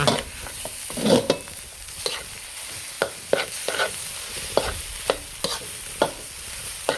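Spicy field rat being stir-fried with a spatula in a wok, with sharp metallic scrapes and clanks in an irregular rhythm over a soft background sizzle.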